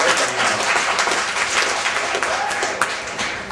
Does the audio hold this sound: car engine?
no